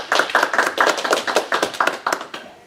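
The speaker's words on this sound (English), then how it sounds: "So if we could please give a round of applause." Rapid rhythmic clapping from an audience at a book festival talk, a dense run of hand claps holding steady and close for a few seconds without any voices.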